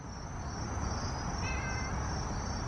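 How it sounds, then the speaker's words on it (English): A feral cat named Hydrox meows outdoors at night, a brief faint call rising over a steady hiss of insects and crickets. "Do you hear him meowing?"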